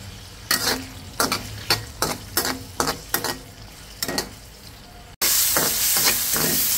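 Chicken, mushrooms and green chillies being fried with salt in a pan, with about ten rhythmic spatula scrapes over a low sizzle, then a sudden loud, steady hiss with a few more strokes; no talking.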